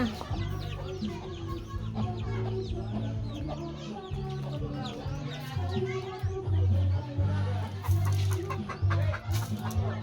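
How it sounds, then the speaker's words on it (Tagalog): Chickens cluck close by in a busy, overlapping chorus of short calls, growing louder toward the end, with a person talking among them. "Nangahatlok ang among chicken."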